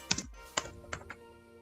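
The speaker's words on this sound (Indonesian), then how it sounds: "Kita ketik lagi, pengolahan kelapa" Computer keyboard typing during work in a production-simulation program, about five distinct key taps spread irregularly over under two seconds, close and clear with no one talking.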